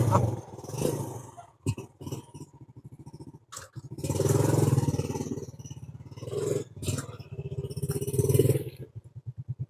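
A motorcycle engine starting and pulling away, its uneven throbbing and surging rising and falling nearby, mixed with clatter and people talking over it.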